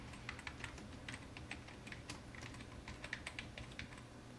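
Fingers type on a computer keyboard, a quiet run of quick, irregular key clicks close by with no voices.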